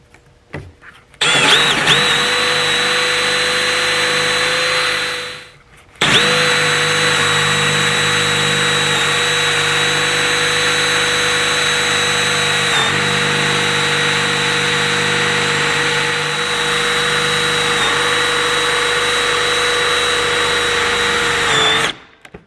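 A power drill runs loud and steady, stops briefly after a few seconds, then whirs again at constant speed for a long stretch before cutting off.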